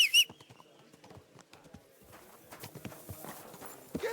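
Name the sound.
horse hooves clip-clopping in video game Kingdom Come: Deliverance II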